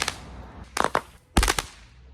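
Sharp cracking bangs from a firework go off in quick bursts, a few close loud reports followed by a heavier blast, with brief gaps between them and no talking.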